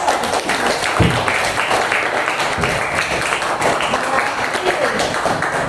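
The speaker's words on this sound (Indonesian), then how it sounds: "tepuk tangan Srido." Children in a classroom applaud together, a dense patter of small hands clapping at a steady, lively pace, fairly close and loud, with a sharper tap near the start and faint voices mixed in.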